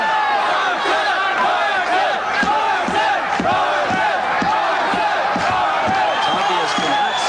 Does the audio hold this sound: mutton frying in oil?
no